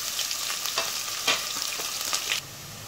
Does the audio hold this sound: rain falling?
no